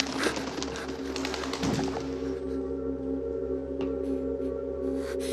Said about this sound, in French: C'est juste des oiseaux.